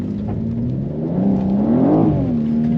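A 2024 BMW G87 M2 driving on a rain-soaked road, its engine droning steadily up close and rising in a smooth rev before easing back, with a wet road hiss underneath.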